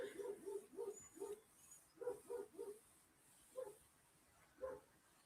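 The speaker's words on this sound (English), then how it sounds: "It's the neighbor's dog you can probably hear in the background" The neighbor's dog barks in the background in quick clusters of three or four yaps, then in single barks, faint and distant, with pauses between each group.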